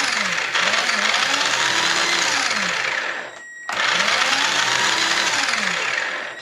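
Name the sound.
RC buggy motors spinning the tires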